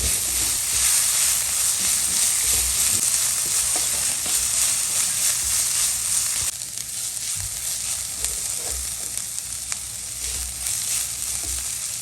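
Puff filling with a quarter teaspoon of garam masala sizzling in a pan, a steady close hiss of frying with soft stirring scrapes, slightly quieter after the midpoint, no voices.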